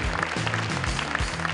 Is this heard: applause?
yes